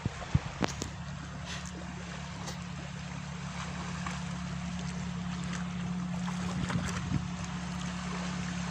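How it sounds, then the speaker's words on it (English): Tractor engine out on farmland, a steady low droning motor hum running throughout at moderate distance, with a few faint knocks and rustles near the start. "Oh no, it's just a tractor."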